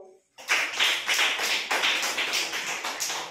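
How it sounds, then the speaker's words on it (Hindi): A small group of people at a village primary school claps together for a parent supporter, with steady, fairly close applause that starts abruptly and carries on for about three seconds. "आपके लिए हम ताली लगाओ।"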